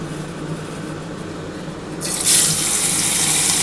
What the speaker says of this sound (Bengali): এবার আমি মাছগুলো ভেজে নিচ্ছি।